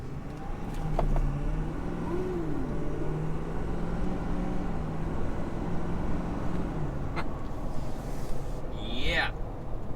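A 2020 Ford Powerstroke diesel truck with a cold side intercooler pipe upgrade and its engine light on accelerates, a steady low engine drone held for most of the stretch, then easing off with a brief higher whine near the end.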